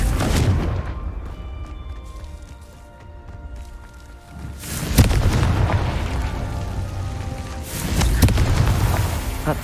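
Blasts from the Confringo spell in Hogwarts Legacy go off as two or three loud, booming explosions with rumbling tails over a steady low game ambience.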